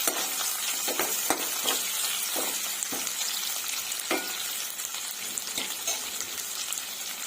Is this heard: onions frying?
yes